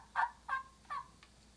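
A wild turkey gobbles three times in quick rattling bursts with a fainter fourth note, fairly distant and clear over a quiet outdoor background.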